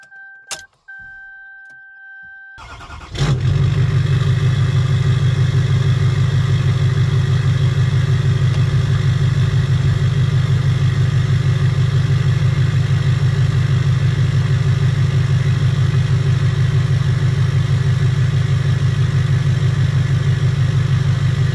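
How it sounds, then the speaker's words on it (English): After a few seconds of quiet clicks, a Duramax diesel engine swapped into a 1998 K1500 truck cranks and fires, then settles into a loud, steady, rumbling idle, heard close by the exhaust. "I'll put you back by the exhaust and let you hear it start up."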